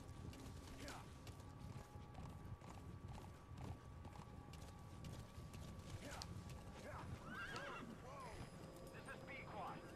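Horse hooves clip-clop in Metal Gear Solid V: The Phantom Pain amid creaking mechanical sounds and a few whinny-like calls, while people talk over the action.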